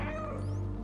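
A cat in the video game Stray gives a single short, close meow over a low, steady game ambience.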